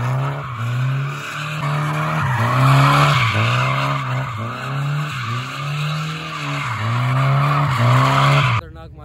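Cars drift around a track, tires squealing loudly in long repeating wails that rise and dip with each slide, sustained and close for several seconds before cutting off abruptly.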